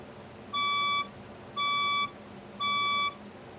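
A building fire alarm sounds during a test, three identical electronic beeps of about half a second each, evenly spaced, loud and clear against quiet room noise.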